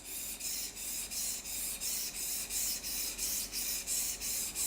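A knife is stroked back and forth on a Japanese whetstone in a steady rhythm of about a dozen gritty, hissing scrapes, close and clear with no talking.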